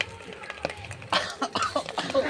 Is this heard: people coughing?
yes